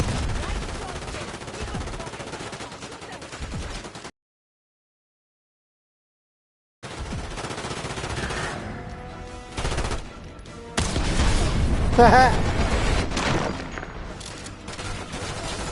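Shotgun and weapon fire in a Black Ops 6 campaign firefight: dense, loud volleys of gunshots and rapid fire, broken by a few seconds of total silence before the shooting resumes.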